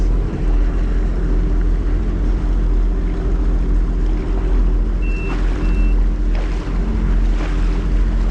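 Jet skis, a Sea-Doo RXP 300X and a Yamaha GP1800R SVHO both with Stage 1 tuning, run over ocean waves with a steady loud engine roar, water rush and wind buffeting the microphone throughout.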